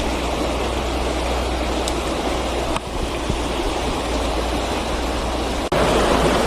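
A flowing stream at a fishing spot makes a steady, even rush of water, close and continuous, with no talking and only a couple of brief knocks.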